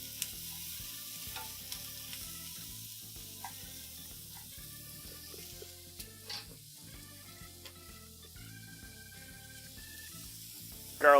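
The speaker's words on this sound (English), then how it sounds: "Hit the onions in the pan with a bit of salt." Onions sizzle softly in a hot pan with a bit of salt, a steady low frying crackle with occasional stirring scrapes and small clinks, no talking.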